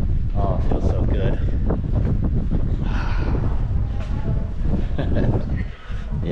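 Strong wind buffets the microphone continuously in the old Bavarian town of Rothenburg ob der Tauber, a steady gusty roar that eases briefly near the end.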